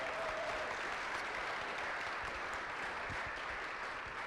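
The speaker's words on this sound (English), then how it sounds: "if you could just give him a big round of applause" Quiet, steady applause from a crowd at a permaculture convergence, an even spread of many hands clapping at a distance, continuous and low in level.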